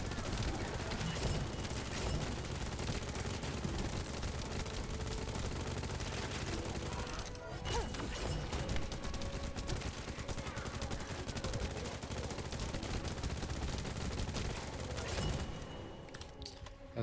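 Gunfire from the video game The First Descendant rattles without a break, with bullet ricochets mixed into a dense, loud wall of shots and impacts that fades slightly near the end.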